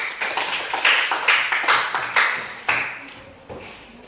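Classroom applause for a student: a short burst of hand claps, fairly close and lively at first, then thinning into a few scattered claps before fading out.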